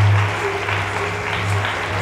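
Clapping from an audience at a religious discourse in a math hall, a broad steady patter lasting about two seconds over a low constant hum.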